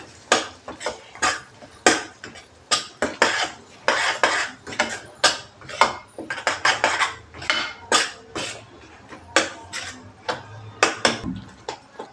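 A spoon stirs turmeric, coriander powder and homemade garam masala in a metal pan, giving repeated sharp scraping clatters in an uneven rhythm, close and alone.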